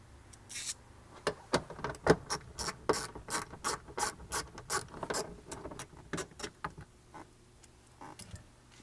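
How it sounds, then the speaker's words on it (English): A hand ratchet fitted with a 10mm socket works loose trim hardware on a 4th-generation Toyota 4Runner's rear interior, giving crisp, evenly spaced clicking bursts in a steady rhythm, close up and alone. "we're going to have to use a 10mm socket to remove this part and this part up here"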